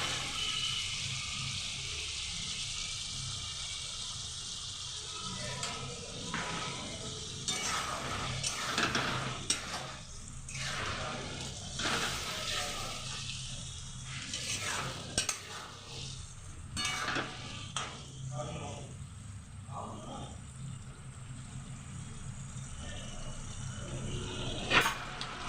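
Spices with green chillies sizzling in a pan for a village-style fish curry, a steady close frying hiss with repeated scraping stirs throughout, no talking.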